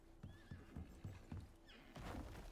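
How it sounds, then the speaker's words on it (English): A horse in the Icarus survival video game gives a loud whinny over a few clopping hoof steps, close by and heard alone without talk. "there's a horse"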